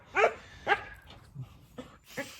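A nearby dog gives two sharp barks, followed by a few softer yips and whimpers.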